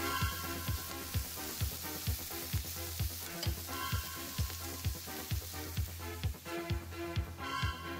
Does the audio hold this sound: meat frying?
yes